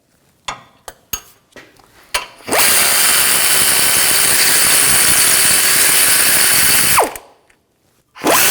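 A power ratchet with an 18mm socket whirs continuously for several seconds as it backs out a brake caliper bracket bolt on a 2006-2010 BMW 550i. A few sharp clicks and knocks come before the run, and the tool sounds loud and close.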